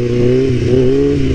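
A stunt motorcycle fitted with a 43-tooth sprocket revs its engine in a short, loud, close burst, the tone wavering slightly as the throttle is held.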